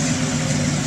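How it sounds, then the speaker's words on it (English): A Chevrolet Chevelle's engine hums low and steady as it drives past at an outdoor car show, close by and fairly loud. "Look at that Chevelle going there."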